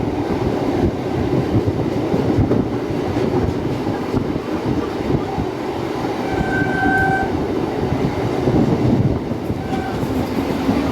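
A suburban local train from Barrackpore rumbles into Sealdah station in the evening, a loud, steady clatter of wheels on rails with brief horn tones sounding in the middle.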